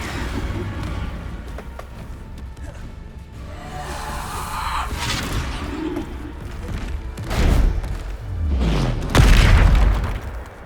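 The Bombarda spell goes off as a magical explosion: a quiet, murky buildup, then two heavy booms close together near the end, the second the loudest.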